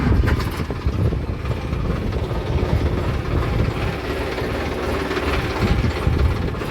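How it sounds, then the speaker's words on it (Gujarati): A tractor engine runs on a farm with a loud, steady, close rumble that holds without a break throughout. "આપણે ટ્રેક્ટર સ્ટાર્ટ."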